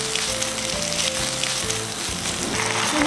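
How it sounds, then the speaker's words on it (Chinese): Steady sizzling as wood ear mushrooms with red and green peppers are stir-fried in a wok, a continuous close hiss with low hum underneath. "继续翻炒1分钟。"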